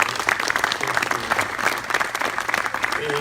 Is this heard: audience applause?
yes